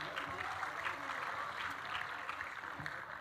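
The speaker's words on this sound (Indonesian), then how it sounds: "Tepuk tangan untuk Tabanan" Audience clapping at an election-ceremony parade event, greeting a district delegation with a dense, even round of applause that holds at moderate level throughout.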